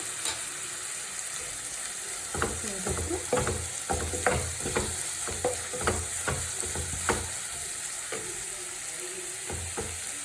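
Ginger paste frying in a pan for prawn curry, a steady close sizzle broken by repeated scraping stirs in an uneven rhythm, no voices.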